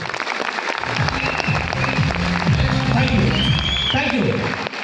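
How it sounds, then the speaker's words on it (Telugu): A seated audience claps briskly at a talk, a continuous patter of hands near and loud running under a speaker's voice. "చప్పట్లు కొట్టేటట్టు జోరుగా"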